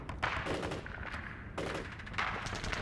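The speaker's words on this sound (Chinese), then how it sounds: "你没有听到这枪炮声吗？" Gunfire and artillery in a war-drama battle between Eighth Route Army troops and Japanese soldiers, with bursts of rapid, crackling shots and heavier booms rising and falling in several waves at mid-distance, with no talk.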